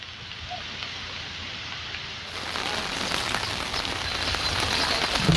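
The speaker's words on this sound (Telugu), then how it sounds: "మంచిర్యాల జిల్లా చెన్నూరులోనూ రాత్రి నుంచి ఎడతెరిపి లేకుండా వర్షం పడుతోంది" Heavy, unbroken rain falls in Chennur, Mancherial district, as a dense hiss of drops on surfaces that swells louder partway through. There is no talk.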